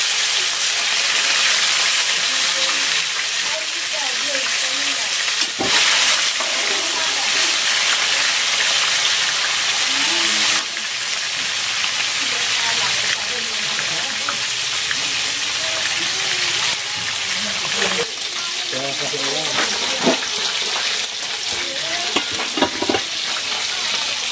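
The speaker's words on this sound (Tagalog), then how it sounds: "At nagpiprito na po kami ng pork." Pork sizzles and crackles loudly in hot oil, a continuous frying hiss with occasional stirring clatter and faint background voices.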